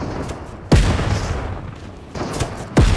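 Gunfire in a Fortnite match: two sharp, loud booming shots about two seconds apart, each followed by a dense crackling burst, heard close and without speech.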